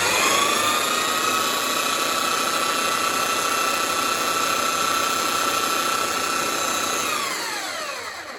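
Titan TTB290SDR belt sander running steadily after new carbon brushes were fitted, a loud, even high-pitched motor whine with a constant tone that begins to wind down near the end.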